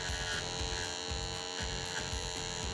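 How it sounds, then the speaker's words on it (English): An electric hair trimmer marks a hairline during a hair system fitting, giving a steady, close electric buzz with a faint hum that runs unbroken and alone throughout. "you can use the trimmer and you just can mark it like this"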